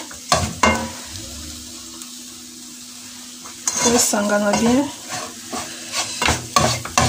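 Food in a pot over a fire is stirred, with repeated scraping and knocking strokes of the utensil against the pot and a low sizzle between them, the strokes coming in uneven bursts.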